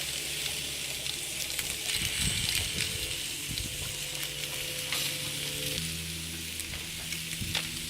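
Lamb lollipops sizzling on a hot grill grate, a steady crackling sizzle with light scraping and a few handling clicks, heard close and without speech.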